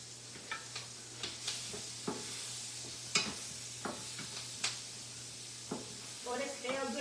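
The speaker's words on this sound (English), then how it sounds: "I'm going to saute my onions and my green pepper" Onions and green pepper sautéing in a home-kitchen pan, a low steady sizzle with soft scattered ticks and stirring taps, a faint hum beneath, fairly quiet throughout.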